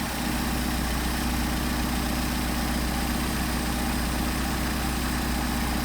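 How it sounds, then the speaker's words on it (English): A car engine idles steadily at a little over 800 rpm while its Solex 44PHH carburetors are tuned, giving a loud, close, continuous low rumble with an even, unbroken drone and no voices. "now we're going to a little bit over 800, so we want to back off on the RPM. On our idle speed"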